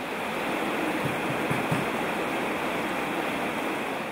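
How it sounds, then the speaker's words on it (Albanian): The flooded Drini i Bardhë river at the Fshaj bridge overflows its bed in heavy rain, a dense, constant roar of rushing water filling the scene without pause. "Lumi drini i bartë të ura fshajt ka dal nga shtrati dhe ka vërshuar të gjitha lokalet"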